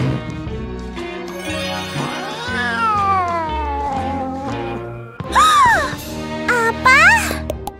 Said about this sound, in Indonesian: Aku suka kucing yang seperti ini.